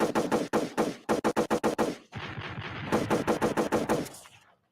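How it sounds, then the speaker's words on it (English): Rapid bursts of loud gunfire, automatic volleys broken by short pauses, then a stretch of sustained shooting before a final burst trails off. "Listen, that's gunshots for that."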